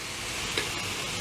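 Steak beef browns in a frying pan, a short, steady sizzle at moderate level with one small click partway through and no talk.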